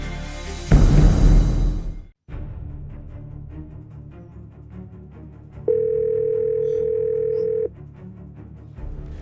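A loud rumbling burst gives way to a quiet room, then a single steady electronic phone tone sounds for about two seconds and stops.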